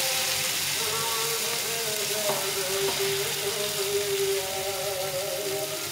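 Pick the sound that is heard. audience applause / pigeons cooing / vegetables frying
vegetables frying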